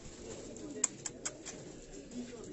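An older Karachi pigeon being held in the hand gives low soft coos, along with a few quick sharp clicks and faint background murmur.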